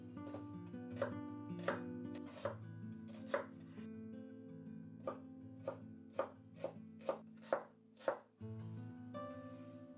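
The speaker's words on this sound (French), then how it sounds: "Ou alors avec un couteau. Ciselez l'échalote." A knife chops shallot on a board in a run of crisp, close knocks. They start slow and irregular, then quicken into a steadier rhythm, with one loud final strike over quiet background music.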